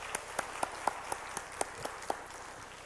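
A small church congregation claps in a slow, evenly spaced rhythm, about ten distinct claps over three seconds, fairly faint and close together in timing.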